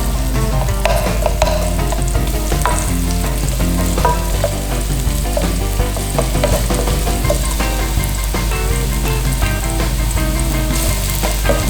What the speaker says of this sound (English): A little bit of a stir fry.